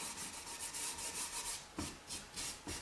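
Steel wool rubbed over dark wax on chalk-painted wood: a steady, close scratchy rasp in rhythmic back-and-forth strokes, about three per second, with a brief pause before the strokes resume.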